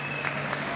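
Audience at a literary festival in Quetta applauds a classical and folk singer, a brief, moderately quiet burst of continuous clapping with a faint steady hum underneath.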